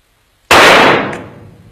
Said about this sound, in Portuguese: Disparo com o revólver